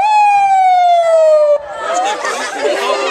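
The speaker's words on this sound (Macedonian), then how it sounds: "имаме тука сирена" A police vehicle siren sounds loud and close in a single long falling wail, then shifts abruptly into noisier, rougher tones, with people chattering in the background.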